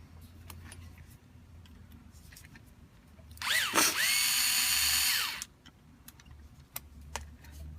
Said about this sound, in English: Now we flip it over, loosen these two screws here.